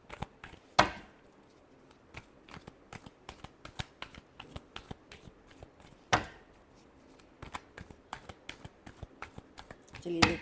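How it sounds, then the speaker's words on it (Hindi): Tarot cards are shuffled by hand in quick, crisp riffling snaps with a few louder slaps, close up under a quiet room. "चलिए देखते हैं लास्ट शफल।"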